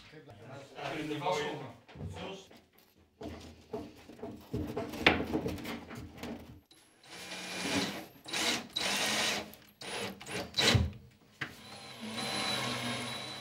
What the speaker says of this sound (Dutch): Boor de kasten voor om splijten te voorkomen.